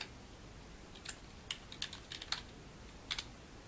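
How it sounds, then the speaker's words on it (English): Keys clack on a computer keyboard in a short, faint burst of scattered taps, alone in a quiet room. "start typing"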